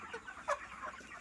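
Chickens on a poultry farm housing about 400 birds give a busy spread of overlapping clucks, with one brief louder squawk standing out near the middle against the steady background flock.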